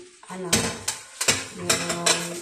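Plates and pans clattering while being washed after cooking: sharp, close clinks and knocks of crockery recur in a loose rhythm, with a voice talking over the first part.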